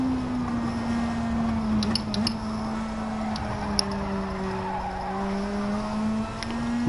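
A race car lapping a circuit in a driving video game, with a steady, loud engine drone that holds its pitch and faint tire squeals and clicks over it.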